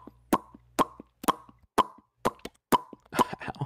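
Lips make a series of about seven sharp popping sounds at a steady, roughly half-second rhythm, close and dry with silence between each pop.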